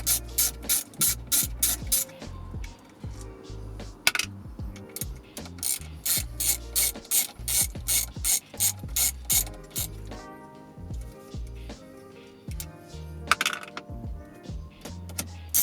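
A hand ratchet undoes 8mm bolts on a car wheel arch in repeated bursts of sharp, rapid clicking strokes with short pauses between them, close and loud throughout.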